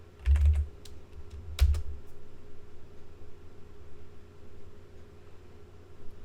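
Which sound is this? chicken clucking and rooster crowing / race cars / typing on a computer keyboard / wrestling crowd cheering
typing on a computer keyboard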